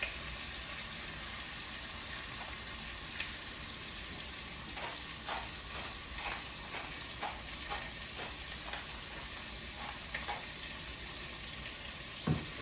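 Chicken pieces seasoned with salt and pepper browning in a frying pan for coq au vin, a steady soft sizzle with faint crackles and small pops continuing without voices.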